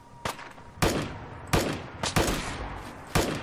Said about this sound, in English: There's a raider down there somewhere and shooting at us already.